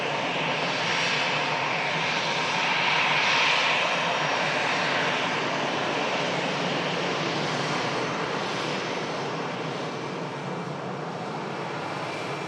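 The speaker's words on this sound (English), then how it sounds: "Virgin Atlantic A330 also on the move, guys" A Virgin Atlantic Airbus A330 moves on the airfield, its engines giving a steady, loud, broadband roar that holds for the whole stretch with a slight swell early on.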